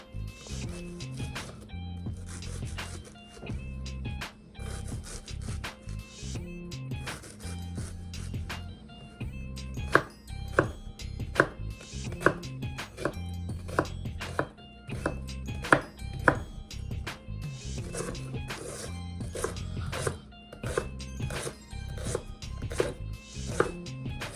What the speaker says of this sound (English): chopping up a finely diced red onion and a little bit of carrots